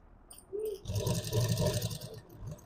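A sewing machine runs close by, stitching over piping on a child's blouse made from an old sari, with a steady mechanical hum and whir lasting a couple of seconds.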